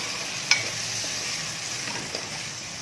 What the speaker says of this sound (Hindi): देखिए अब साथ में इसके टमाटर डाल दें